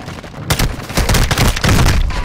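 Sustained bursts of gunfire in Call of Duty: Modern Warfare II, loud and close, with rapid shots merging into dense volleys after a brief quiet start.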